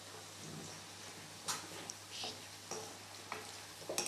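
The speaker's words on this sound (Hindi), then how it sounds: "बड़ा ज़बरदस्त सा तड़का तैयार हो रहा है" Tadka tempering fries in a lot of oil in a pan, a soft steady sizzle with scattered crackles and pops, faint and close with no talking.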